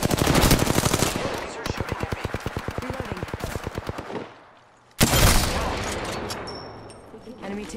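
Rapid automatic gunfire from a video game firefight, loud and close, with a long sustained burst of evenly spaced shots, a brief pause, then a fresh burst fading into echoing rattles.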